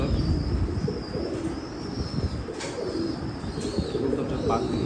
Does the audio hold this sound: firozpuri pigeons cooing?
yes